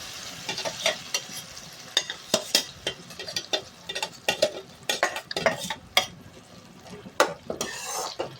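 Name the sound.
ground jackfruit added to payasam in the pan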